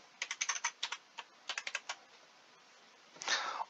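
A new password is typed on a computer keyboard: two quick bursts of crisp key clicks, about a dozen close taps in all, followed by a brief duller rustle at the end.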